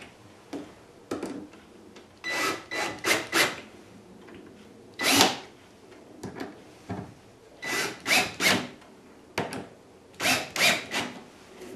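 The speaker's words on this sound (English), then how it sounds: "I'll use my drill driver because that's got a clutch in it" Cordless drill driver with a clutch at work in a workshop while an interior is being modified, running in a series of short bursts and longer whirring runs, close and fairly loud, with no talking.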